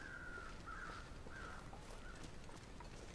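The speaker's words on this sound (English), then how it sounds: "I'm hearing a second set of crows" Crows cawing in the survival video game The Long Dark, a few faint, distant caws over a quiet outdoor ambience, no talking.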